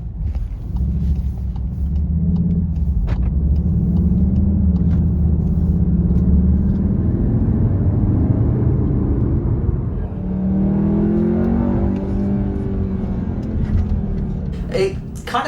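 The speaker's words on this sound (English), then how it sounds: "there is a bit of artificial sound injection when you're in Cupra or Sport mode" A 2021 Cupra Formentor VZ2 engine with artificial sound injection in Cupra or Sport mode gives a steady, loud, hollow rumble heard from inside the cabin, rising in pitch as it accelerates and then again after a shift.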